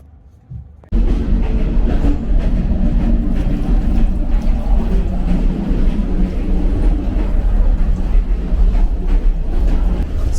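A Vietnamese night sleeper train begins moving: after a quiet cabin moment, a sudden loud, steady rumble of wheels and carriage noise sets in and continues without a break.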